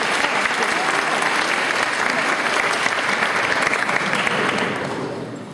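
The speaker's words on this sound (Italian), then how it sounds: "Un applauso per il signor Cato" Audience applause at the Lucca Comics convention during a Junji Ito showcase, a dense sustained wash of clapping from a large crowd that holds steady and then fades in the last second.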